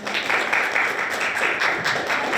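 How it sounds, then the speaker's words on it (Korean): Audience applause at a university innovation forum's student session in a hall, a dense, steady clapping that sustains evenly throughout. "큰 박수 부탁드립니다"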